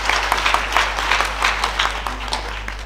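Applause from a conference audience at a disability pre-summit, a steady dense wash of many hands clapping for a speaker, fairly loud and close, with a constant low hum underneath.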